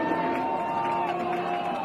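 A crowd at a high school football game cheers for the Knights defense, a dense, continuous wash of distant voices and whoops without distinct peaks, heard throughout.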